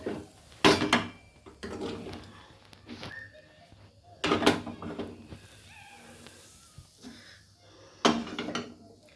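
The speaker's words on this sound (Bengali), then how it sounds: "এবার এইটাকে আমি থালার মধ্যে ঢেলে দিয়ে একটা শেপ দিয়ে দেবো।" A sweet mixture scraped out of a kadai wok onto a plate, heard as sharp metallic scrapes and clanks in a few bursts, with quieter scraping and shuffling in between.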